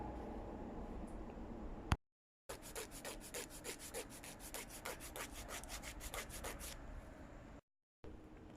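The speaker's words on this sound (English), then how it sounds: "More sanding and a few primer layers later." Primer on a car's rear diffuser is sanded by hand in quick, repeated back-and-forth rasping strokes, close and steady, broken by two short silent gaps.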